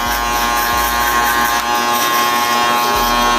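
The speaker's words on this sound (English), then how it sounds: "get your shaver now and cut off all that stubble" An electric shaver cuts off stubble, a steady, loud, close mechanical buzz with a constant high whine that runs throughout, alone without speech.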